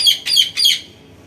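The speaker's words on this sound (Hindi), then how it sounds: "जब वीडियो बनाए के होई नु तो तोता के तन दूर रखियो, परेशान करके धइले बा यार" A pet parrot lets out three quick, loud, shrill squawks close by indoors, sharp harsh calls packed into about a second, then it falls quiet.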